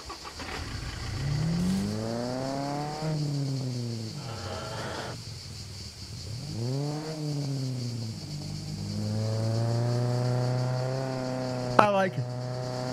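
A vehicle engine in the survival game SCUM revs up and down repeatedly over a steady background hum, its pitch climbing and falling in smooth sweeps, with a brief click near the end.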